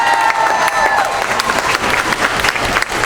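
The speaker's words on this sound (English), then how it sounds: "Please give them applause of a hand." A campaign kickoff rally crowd applauds loudly and continuously in an indoor room, dense clapping with a few cheers and whistles, no talk over it.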